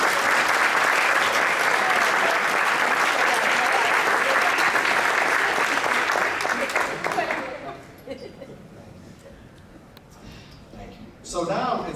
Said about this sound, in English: So let's a round of applause and a round of thanks.